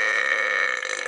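One loud, sustained human burp, resonant and tonal, lasting about a second, close and alone.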